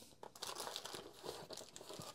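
Plastic packaging bag crinkling and rustling as a boxed Makita tool is unpacked, quick close-up crackles and crunches in irregular bursts, fairly quiet with no talking.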